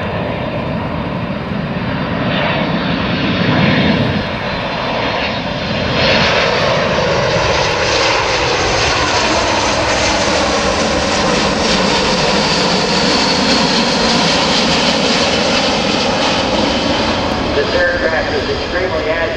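Boeing C-17 Globemaster III military transport jet flying a demonstration at an airshow at Dover Air Force Base in 2009, a loud continuous engine roar with a slowly shifting pitch that fills the whole span.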